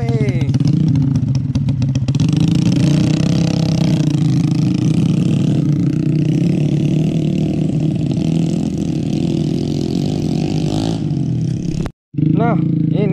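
Motorcycle engine laboring loudly and steadily up a road in Soppeng, South Sulawesi, a continuous close drone that cuts out briefly near the end before resuming.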